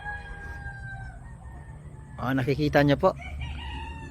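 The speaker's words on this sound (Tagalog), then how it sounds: "yan po yung ayam simani ng mga manok" Ayam Cemani chickens crowing and clucking in a loud burst near the middle, with someone briefly speaking over a quiet farmyard background.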